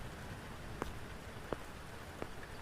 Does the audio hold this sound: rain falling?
yes